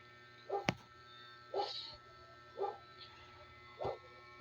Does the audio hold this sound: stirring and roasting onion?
no